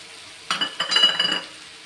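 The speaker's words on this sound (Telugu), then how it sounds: "తర్వాత ఇందులో టమాటాలు యాడ్ చేసుకోవాలి" Chopped tomatoes hit a hot pan of frying bottle gourd curry and are stirred with a spoon, a short burst of sizzle and scraping clinks, close and clear.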